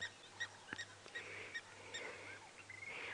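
A blacksmith lapwing calls in repeated sharp, metallic notes at an Egyptian goose beside a dam on a sunrise safari drive, the calls ringing out in irregular bursts against a low steady hum.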